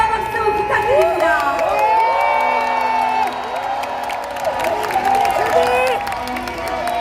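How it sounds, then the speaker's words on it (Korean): A large crowd cheers, whoops and applauds loudly and continuously at Democratic Party presidential candidate Lee Jae-myung's outdoor campaign rally at Yongsan Station in Seoul, with no single voice standing out. "힘찬 함성과 박수 부탁드립니다."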